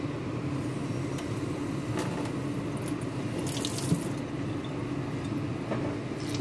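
Steady tap water running into a sink to wet paper towels, a continuous even wash of flow throughout with a few faint clinks and drips on top.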